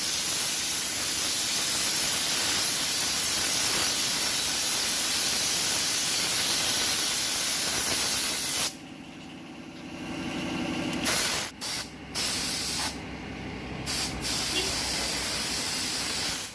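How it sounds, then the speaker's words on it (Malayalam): A mixture of oil and diesel sprayed onto a bike during servicing, a loud continuous pressurized hiss for several seconds, then stopping and restarting in short bursts. "ഓയിലും ഡീസലും കൂടെയുള്ള മിശ്രിതം വണ്ടിയിൽ നല്ല രീതിയിൽ സ്പ്രേ ചെയ്യാൻ പോകുന്നത്"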